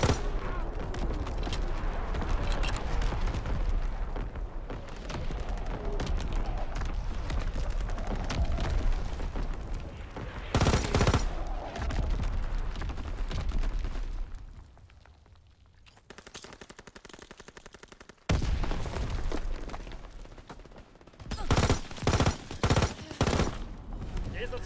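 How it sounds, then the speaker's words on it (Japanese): Sustained battlefield barrage from Call of Duty WWII multiplayer: dense, continuous rumbling gunfire and explosions, loud and close, with a brief quieter lull before sharp clustered bursts return near the end; a voice speaks briefly. "来るぞ。 敵の砲撃だ。"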